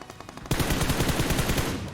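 Rapid automatic gunfire from the mobile game BGMI knocks down enemy players, bursting in abruptly after a quieter moment and rattling on loud and continuous to the end.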